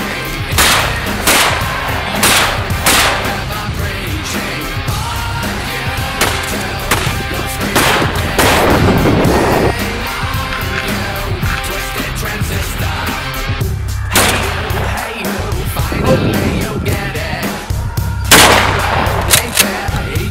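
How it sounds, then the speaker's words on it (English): Shotgun blasts fired one after another while shooting skeet at a range, loud sharp reports spaced a few seconds apart over steady background noise. "now Jared and I are gonna start shooting some shotguns and shooting skeet"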